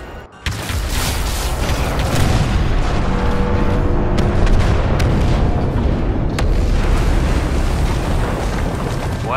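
Blaster fire in the Star Wars Battlefront II video game, a loud, dense barrage of shots and booming impacts running almost continuously after a brief quiet start.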